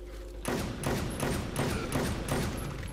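Gunfire in the video game Inversion, a series of loud, heavy shots repeating roughly every half second against a dense, rumbling background.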